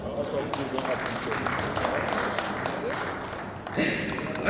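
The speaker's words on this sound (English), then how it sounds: "Please, a round of applause." Applause for a guest at a formal event in Abuja, a steady dense wash of clapping from a crowd lasting several seconds, with murmuring voices underneath and a brief louder swell near the end.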